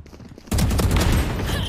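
Odin machine gun in a video game opening up after a brief quiet lead-in, a sudden loud continuous burst of rapid gunfire that stays dense and close to the end.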